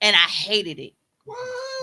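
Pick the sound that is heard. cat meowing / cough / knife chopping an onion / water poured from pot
cat meowing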